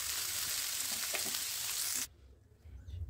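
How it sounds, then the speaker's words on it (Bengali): A spice paste fries and is stirred in a pan, giving a close, fairly loud hissing sizzle with small scraping accents for about two seconds before it cuts off abruptly to near quiet with a low rumble. "নাড়াচাড়া করে এটাকে এখন ভাজতে থাকবো"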